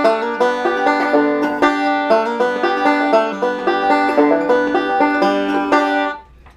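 Cripple Creek's second part is played with slides, likely on banjo, as a bright plucked string tune with quick rolling notes and sliding pitches, steady and close, ending abruptly after about six seconds with no talking.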